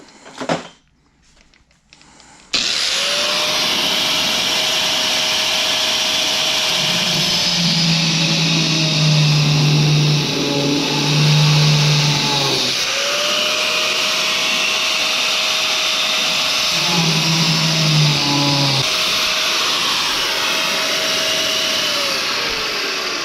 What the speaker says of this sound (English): I'm gonna just use the cutoff wheel to cut that.